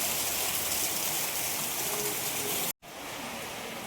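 Heavy rain pours down steadily as floodwater rushes past, a dense, loud, unbroken roar, briefly cut by a short gap before it resumes at the same strength.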